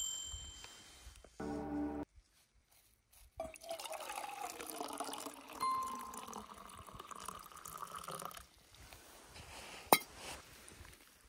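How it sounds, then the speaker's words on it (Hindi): Hot water from a heated pot is poured into a cup to make coffee outdoors on a winter trek, a soft liquid trickle and fill with a clink, no talking. "काफी गर्म हो गया जी पानी, ज्यादा ही गर्म हो गया, इसमें डालते हैं।"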